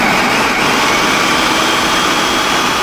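Electric mixer spinning dry cookie ingredients with salt, a loud steady whirring motor hum, close and continuous throughout with no talking.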